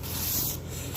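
A brush sweeps snow off a surface during a Quebec snowstorm in deep cold, a brief, close, continuous rough scrubbing swish that dips for a moment near its end.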